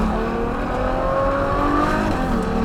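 Ferrari GTC4Lusso in sports mode, its exhaust revving loudly and steadily up close with a continuous engine drone and no gaps.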